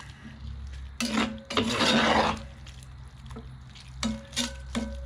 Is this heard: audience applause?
no